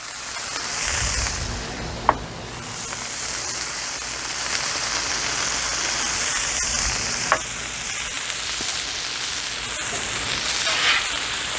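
Smashburger patties searing on a Blackstone griddle in a continuous dense crackling sizzle, steady and close, broken by a few sharp clicks and taps of a spatula, with no talking.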